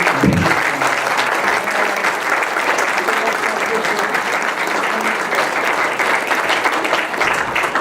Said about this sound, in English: if everybody could give them a nice round of applause